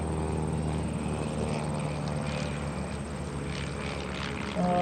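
A propeller airplane flying at the Westmoreland County airshow gives a steady droning engine and prop hum amid a distant crowd, louder near the end.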